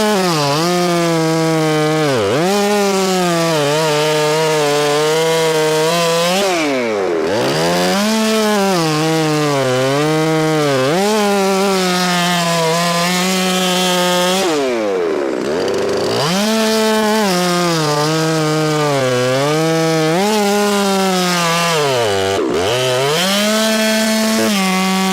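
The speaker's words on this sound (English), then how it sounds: "The chainsaw screams" Chainsaw cutting a frozen log into rounds outdoors: a loud, steady high-revving engine whine with pitch dipping and recovering as the chain bites through the wood, three brief drops between cuts, running near and alone without talk.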